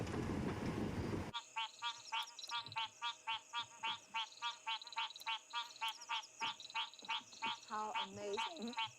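A loud, steady chorus of frogs croaking in rapid repeated pulses at a small pan at night on an African safari, preceded by a brief burst of noise at the start.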